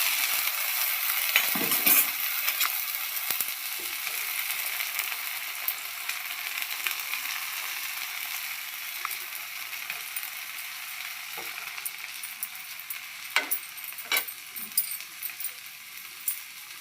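Egg dosa cooks on a hot oiled pan, a steady close sizzle and crackle with occasional scraping and clinks of a spatula against the metal, no voices.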